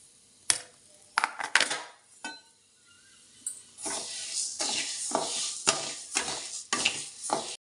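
Sorghum flour roasting in a hot pan over a low flame until it puffs, heard as repeated close scraping stirs with soft sizzling and a few light metallic clinks.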